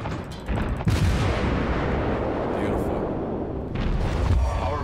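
Naval guns of the cruiser Omaha firing high-explosive shells in World of Warships, loud booming salvos with a heavy rumbling blast that sustains throughout and a fresh report near the end.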